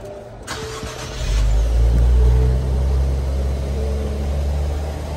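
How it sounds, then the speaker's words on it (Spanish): A car engine, compared to the BMW Z4 engine, cranks and catches, then settles into a loud, steady low rumble with mild revving, close by and with no one talking. "Se escucha como si fuera como un tipo BMW o algo así. Viene siendo como el motor del Z4 de la BMW"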